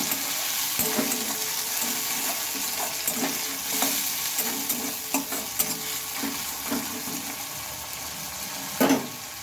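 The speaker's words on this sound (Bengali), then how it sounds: "টমেটো কুচিটা দিয়ে আবার একটু ভালোভাবে নেড়ে চেড়ে নেব" Chopped tomato frying in a pan for a spiced carrot dhoka dish, with steady close sizzling and repeated scraping stirs of a spoon against the pan, ending in a louder clatter.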